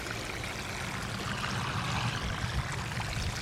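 Water is poured steadily into dry soil in a 20-gallon container, a continuous gushing, splashing wash that stays close and even throughout.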